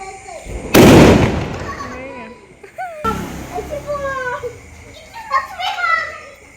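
A Lakshmi bomb firecracker goes off with one loud, sharp blast early on during a Karthika month festival outing. Children chatter and call out excitedly afterward.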